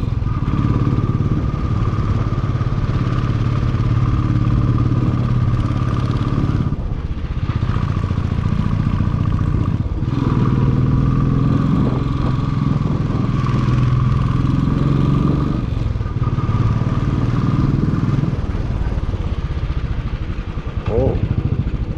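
Motorcycle climbing a narrow ghat road to Matheran in first gear, its engine loud and close with steady mid-pitched thrum and brief dips between throttle pulls, a rider's voice speaking over it at times.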